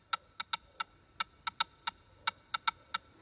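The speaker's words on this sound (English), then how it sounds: "the only thing I actually added was this perk loop" Percussion loop in an Amapiano beat made in FL Studio: crisp, bright metallic ticks repeating in a syncopated pattern, about a dozen hits, fairly quiet and alone.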